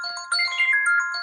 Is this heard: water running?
no